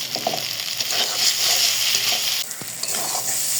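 Bay leaf, cinnamon and cardamom fry in hot oil, a close, steady sizzle with stirring scrapes and a brief clatter near the end.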